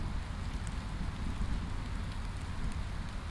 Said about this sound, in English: This rain is dramatic.